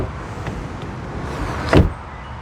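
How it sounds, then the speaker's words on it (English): Door of a 2025 Subaru Forester Premium Hybrid shutting, one solid, loud thud near the end after a quiet lead-in of faint mechanical movement, no talk. "let's start with the sound of the closing door"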